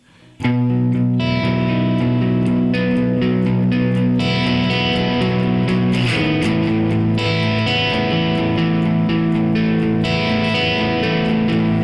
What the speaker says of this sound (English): So that is the sound of the M-Audio Black Box, Roger Lynn M-Audio Black Box.